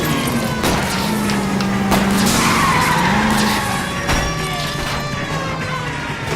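Tires skid and squeal through a car chase in the L.A. Noire video game, with a steady loud engine and screeching bursts. A voice sits low in the mix.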